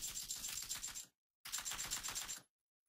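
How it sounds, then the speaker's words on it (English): Rapid automatic rifle fire in PUBG, two sustained bursts of quick rattling shots about a second each, separated by a short gap, distant and fairly faint, no talking. "guy's shooting at me"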